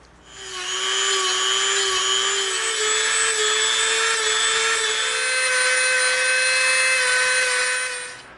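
A rough rotary tool bit whines at a steady high pitch as it grinds EVA foam, starting up, holding a constant droning tone for about seven seconds, then spinning down, with no talking.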